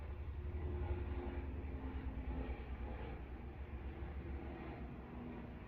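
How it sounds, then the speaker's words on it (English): An airplane passes overhead as a steady, broad low rumble that stays fairly constant, heard at a distance and moderately loud, with no voices. "As this plane flies over"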